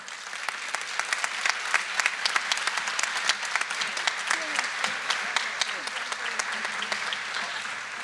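A scholarship ceremony audience claps steadily with sharp, dense hand claps filling the hall, a continuous close wash of applause with faint voices mixed in.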